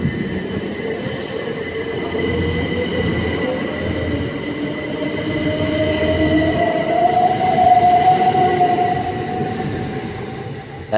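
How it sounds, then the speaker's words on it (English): A Class 375 electric train, unit 375-827 on the Dover service, pulls away from Faversham station, its motor whine rising steadily in pitch over a continuous rumble and track noise, close and loud throughout. "the Dover service should now be departing"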